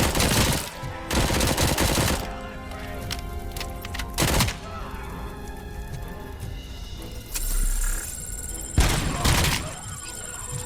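Gunfire bursts and heavy grenade blasts from the video game Robocop Rogue City, with loud booming impacts and rattling shots spread across the scene, interrupted by quieter gaps.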